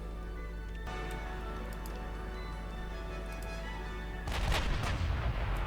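Naval guns firing broadsides in Ultimate Admiral Dreadnoughts, a low steady ship rumble with faint distant booms, then a heavy, louder volley of blasts near the end.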